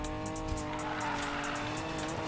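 A car drifting in the video game NFS Payback, with a loud sustained engine roar and continuous tire squeal, steady and close, with no talk.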